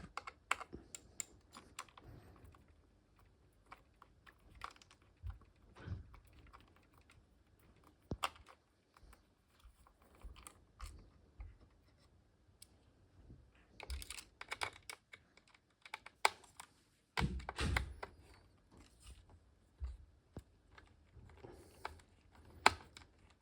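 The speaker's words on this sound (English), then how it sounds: "Let's just unscrew this more. I'm going to move over to this side of the device. Get this screw." Small screws being turned out of an Arcadyan AW1000 router casing during a destructive teardown, a quiet run of irregular clicks, scrapes and taps from close by, with brief louder handling knocks and no talk.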